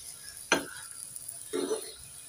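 A radish paratha is flipped in an oiled pan, giving two bursts of sizzle a second apart, each with a soft scrape of the turn. A quiet hiss fills the space between them.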